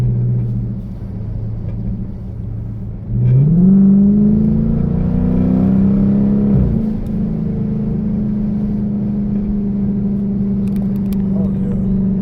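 A car engine climbs to a louder, higher drone once sport mode is engaged, holding a steady revving hum close by that then settles into a constant rumble.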